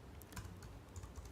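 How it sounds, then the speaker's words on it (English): Quiet keystrokes tapping on a computer keyboard, a short run of irregular clicks close by with no voices. "Let me just type it in here."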